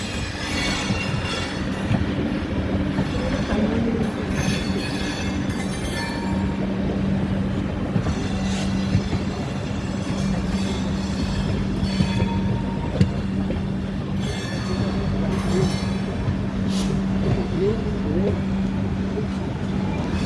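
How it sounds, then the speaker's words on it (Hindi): A goods train rolls past near the Howrah goods cabin, a steady close rumble of wagons and rails with faint wheel squeal, continuous throughout. "ये गुड्स ट्रेन।"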